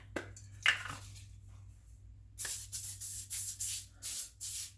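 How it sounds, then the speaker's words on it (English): A cooking oil spray can, almost empty, hisses in a rapid series of seven short, even bursts over potatoes for air-fried fries, close by, after a few soft handling clunks. "I'm just going to use my spray"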